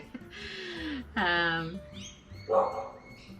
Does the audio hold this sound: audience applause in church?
no